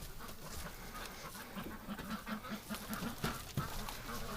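Ducks quack repeatedly in a winter setting, a steady run of nasal calls at moderate distance over a noisy background.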